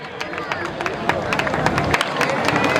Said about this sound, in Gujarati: આપણે તાળીઓનો ગડગડાટ શરૂ રહેવો જોઈએ.